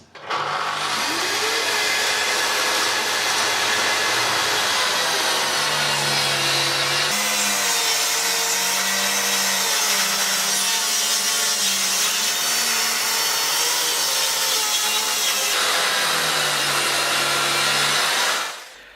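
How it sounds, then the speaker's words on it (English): A plunge saw set to a 2-degree bevel rips wooden strips: a loud, steady motor whine with blade-through-wood rasp that holds for most of the run, dipping in pitch as the cut loads up before spinning down. "Here I set the angle of the plunge saw to 2 degrees, and then it was just a matter of ripping down the strips."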